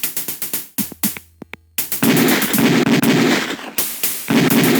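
Beretta pistol shots at a firing range in the Police Quest 4 video game: a rapid string of sharp, loud reports, a short pause with a few isolated clicks and pops, then more dense bursts of fire.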